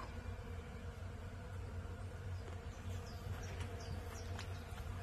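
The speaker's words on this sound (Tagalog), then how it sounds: "Ayun o, nagliliparan yung mga bubuyog." Bees buzz among white plum blossoms in a backyard, a faint, steady hum of many insects close by, with a few wings darting past over a low background rumble.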